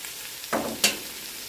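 Beef meat sizzles in a hot pan while being cooked for adobo, a soft steady frying hiss with two brief louder bursts as the meat is stirred, heard alone without talk.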